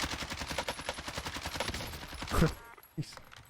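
Rapid automatic gunfire in the Warzone battle royale video game rattles in a fast, steady burst, ending with a louder close shot and a final crack after a short gap.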